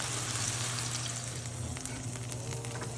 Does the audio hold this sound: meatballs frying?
yes